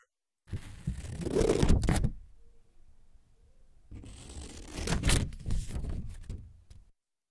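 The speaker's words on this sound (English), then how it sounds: "Now let's hear the cutting paper." Scissors cutting through paper, recorded up close as a sample: two stretches of crisp snipping and tearing-like rasps separated by a quiet gap, with sharp individual cuts standing out.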